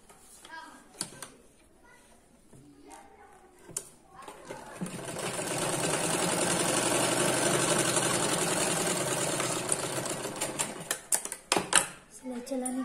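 A sewing machine stitches a fold-over waistband onto a six-panel petticoat, a fast steady whirring rattle running for several seconds in the middle, with someone talking before and after and light handling clicks.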